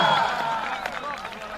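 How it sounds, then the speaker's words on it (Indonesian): A gathering of the SIP Angkatan 49 regiment gives a short burst of lively applause. The clapping is steady and close, with a faint crowd murmur behind it. "boleh saya minta tepuk tangan yang meriah dari SIP Angkatan 49"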